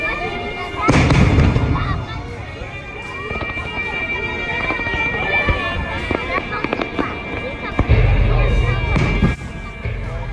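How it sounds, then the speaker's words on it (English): Fireworks display over the Bay of Cannes at the international fireworks festival, several loud booming bursts with crackling between them, heard over a busy crowd with voices. "The Bay of Cannes has been hosting this international fireworks festival since 1967"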